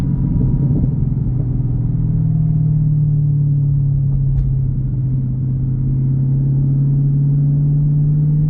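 A 2018 Chevrolet Camaro ZL1 1LE with the Extreme Track Package produces a loud, close, steady low engine and exhaust drone that holds without a break, with no talking.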